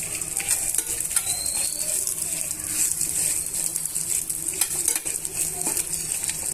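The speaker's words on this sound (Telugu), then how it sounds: "ఇప్పుడు ఇవన్నీ కూడా ఒక 2 నిమిషాలు దోరగా వేయించుకోవాలి" Chopped onions and peanuts fry with a steady, close sizzle in a pan for peanut chutney, with a scraping spatula stirring them through and light metallic clinks, and no voices.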